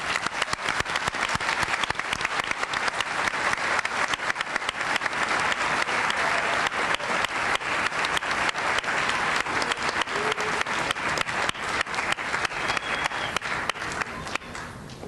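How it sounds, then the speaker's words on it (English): Sustained applause from an audience welcoming honor society inductees at a National Honor Society induction ceremony, dense and even clapping that carries on for the whole stretch and tapers slightly at the end. "A round of applause, please,"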